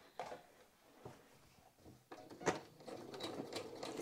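A sewing machine stitching a seam on trousers with a small 1.6 mm stitch, quiet mechanical whirring and ticking in short uneven runs, close by.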